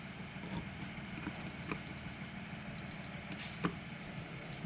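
A multimeter gives steady electronic continuity beeps while testing ground connections on a homemade 220 V outlet wired from 110 V, several short and longer tones sounding over a quiet background hum.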